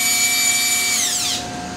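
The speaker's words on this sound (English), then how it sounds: "Then I just need to drive in a couple of quarter 20 screws." A cordless drill drives quarter-20 screws into a fixture, a loud close motor whine with a steady pitch that winds down as the trigger is released.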